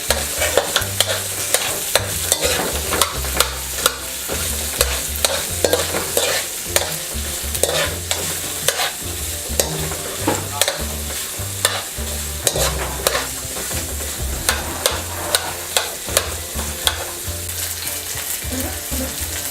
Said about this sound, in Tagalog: ilalagay na po natin yung sibuyas na puti. Hahaluin lang po natin.